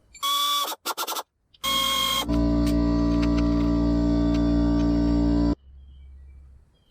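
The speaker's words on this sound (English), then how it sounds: "to get this pan off, there's 1, 2, 3 transmission bolts that we have to get out" A powered tool works the transmission bolts out of the oil pan on a 2012 Ford Mustang V6. A few short bursts come first, then a loud, steady motor whine runs for about four seconds before it stops.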